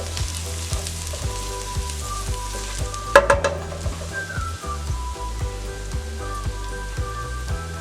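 Garlic and ginger sizzle in a pot, a steady crackling fry throughout with a brief clatter of stirring partway through.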